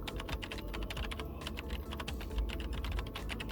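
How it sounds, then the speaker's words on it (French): Rapid keystrokes on a computer keyboard while a password is entered, a dense run of close, crisp clicks with no talk. "Et puis, je vais taper mon mot de passe"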